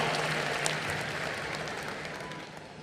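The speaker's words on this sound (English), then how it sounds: "Round of applause for you." A crowd applauds with dense, steady clapping at the closing ceremony of the 53rd International Film Festival of India, 2022, slowly fading over a few seconds.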